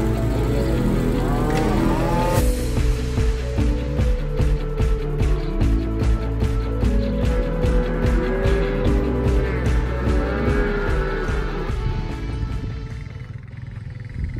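A herd of cattle on a Wyoming ranch lowing repeatedly, long deep moos overlapping close and loud, with a rhythmic rattling clatter running through the middle and no talk.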